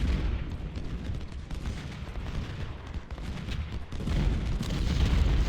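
Civil War artillery booms and scattered musketry rumble in dense overlapping volleys across a battlefield in a strategy video game, continuous and loud with no quiet gaps.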